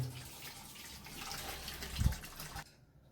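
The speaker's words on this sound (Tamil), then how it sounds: "இந்த தண்ணி இப்போ வெடிகட்டிட்டு நம்ம தாளிச்சிக்கலாம்" Cooked food is drained of its cooking water in a home kitchen, a steady close pour and splash with a brief louder gush before it stops abruptly.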